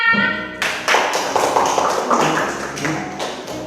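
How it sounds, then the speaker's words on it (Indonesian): After a short pause, a group breaks into brisk clapping, with uneven overlapping claps that carry on steadily. "Beri tepuk tangannya."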